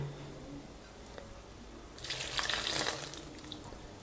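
Water poured from a tap or jug into a bowl of sugar and baker's yeast for bagel dough, a soft splashing rush that starts midway, swells briefly and then eases off.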